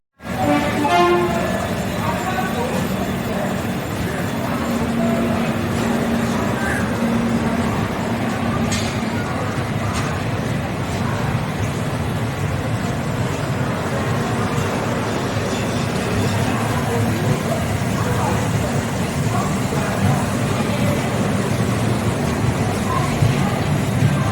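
Train noise from inside a passenger train hauled by engine 22340 on a run from Tiruchirappalli toward Srirangam: a loud, steady rumble and rattle that holds for the whole stretch, with faint background voices now and then.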